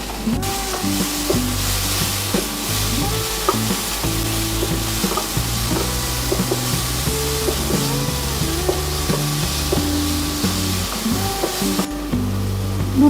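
Sliced tomato and green chillies hit a hot pan in a steady, loud sizzle of frying for aloo paratha filling, with stirring clinks and scrapes throughout and no talking.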